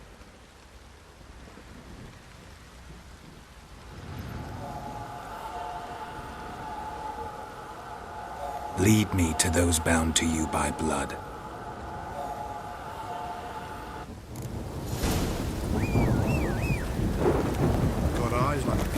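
Rain falls steadily with rolling thunder in Witcher 3: The Wild Hunt, a constant patter under spoken game dialogue, swelling with a louder crackling burst partway through.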